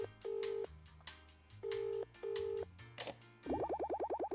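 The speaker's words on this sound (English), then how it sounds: "Please wait 1 second while I phone my boss." A telephone call being dialed in the video game Escape From EverAfter: several steady dial-tone beeps, then a rapid burst of short ringing pulses, quiet and with no talk.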